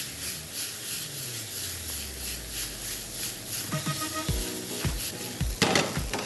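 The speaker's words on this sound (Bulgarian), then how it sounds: "Виждате как буквално за секунди и лука се запържи." Onion and lamb liver frying in melted butter on a sach: a steady close sizzle with spoon scrapes, and a few metallic clinks and knocks toward the end, with no speech.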